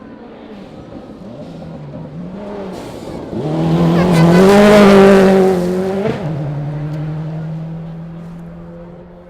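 A rally car on Stage 9 of the 2012 100 Acre Wood Rally approaches with a rising engine note, peaks loudly as it passes close by with a brief tire scrub, then its revving drops away into the distance.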